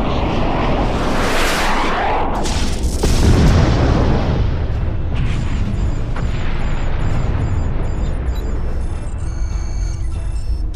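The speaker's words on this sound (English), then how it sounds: "Fire photon torpedoes." Photon torpedoes fire in a Star Trek: The Next Generation fan film, heavy booming launches and a roaring rush in the first few seconds that then fade into a lower hum with faint electronic tones.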